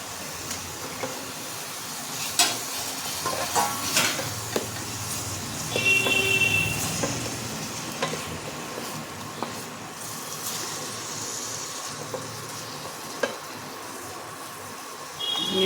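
Crabs sizzle in hot oil in a pan for chili-oil crab curry, a steady frying hiss with occasional scraping stirs and clinks throughout, fairly close and moderate in level.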